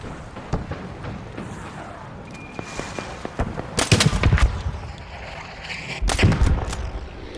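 Gunfire in ARC Raiders, aimed at spotter drones: scattered sharp shots build into dense bursts of heavy firing, with a louder burst near the end, loud and close.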